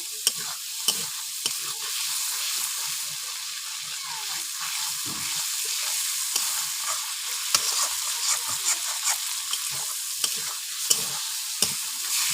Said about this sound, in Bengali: চিংড়ি মাছটা লাল লাল করে ভেজে নিচ্ছি।